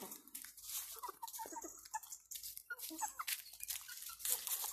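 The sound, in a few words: hens clucking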